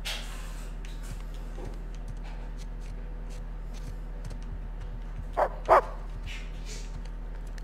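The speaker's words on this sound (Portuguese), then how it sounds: "Olha o cão a chamar-me, peraí." A dog in Uncharted 4: A Thief's End on PS4 gives two quick barks close together, rising out of a steady low game hum near the end.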